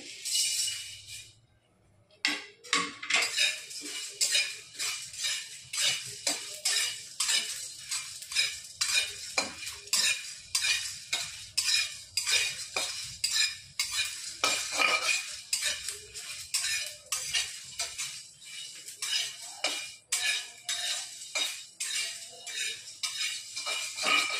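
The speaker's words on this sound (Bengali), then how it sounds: "এবার আমি শুকনো খোলায় সব মশলাগুলো ভেজে নেব" Rapid, repeated scraping and clinking of a spoon stirring spices dry roasting in a pan, with a faint sizzle underneath.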